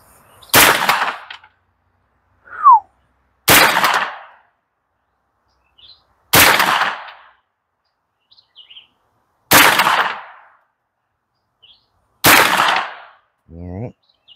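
A 9mm pistol fires into a mattress: five loud, sharp shots spaced roughly three seconds apart, each cracking close by and dying off fast, with a small metallic clink between two of them.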